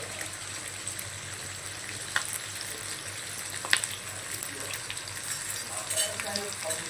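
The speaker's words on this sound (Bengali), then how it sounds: "পেঁয়াজের পাপড়িগুলোকে খুব সুন্দর করে ভেজে নিতে হবে" Onion slices fry in a pan for a Bengali cabbage ghonto, giving a steady, fairly quiet broadband sizzle and hiss that continues throughout, with a few faint clicks and pops.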